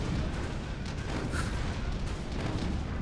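A Karkadam artillery unit fires in Command & Conquer Generals: Zero Hour, a dense, distant rumble of heavy booming shots blending into continuous battle noise.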